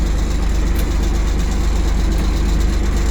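An ISEKI Sial Hunter 24 mini tractor engine idles close by, a loud, steady diesel chug with an even low throb and no talk.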